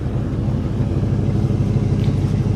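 A 1995 Ford Mustang 5.0 V8 engine rumbles steadily at idle with a deep, loping exhaust burble, loud and close, no voices.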